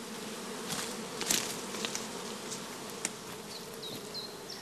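Honey bees buzz inside a swarm box covered with wire gauze on both sides. A dense, continuous droning hum comes from close by, with occasional louder passes and wingbeat flares and no voices.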